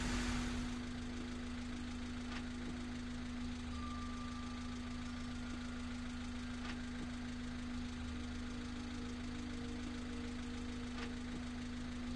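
A car engine idles steadily in What Remains of Edith Finch, a low, constant hum with a faint mechanical drone that holds evenly throughout.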